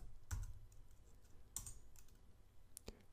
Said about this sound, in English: we hit the / and type the text